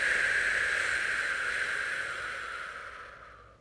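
A single deep, long exhale during a breathing exercise, a soft airy rush that fades out over a few seconds, close and fairly quiet.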